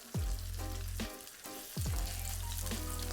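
Potato pancakes fry in lard in a skillet, giving a loud, continuous close sizzle, with a few brief scraping surges from a spatula.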